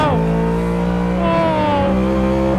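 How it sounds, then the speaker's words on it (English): Ford Mustang GT3 racing car engine revving loud and close, a steady high-pitched roar with rising harmonics and a brief shift in pitch midway, no talk over it. "Right, let's rev it out."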